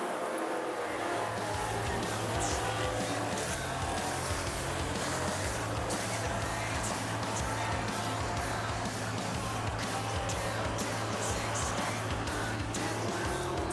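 Race cars lap a speedway oval at Rockhampton in an AMCA night race, engines droning steadily and loudly throughout with a constant roar and no pauses.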